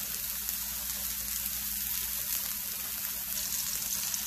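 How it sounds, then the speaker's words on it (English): Steady, dense sizzling of chorizo frying in a hot Lodge cast-iron skillet, a constant crackling hiss with no pauses. "Get that good sizzle."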